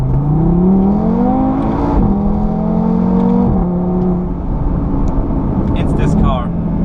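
Engine note from a 476 hp APR Stage 1 Audi TT RS, rising and dropping through gear changes under load, a steady loud drone with talk layered over it.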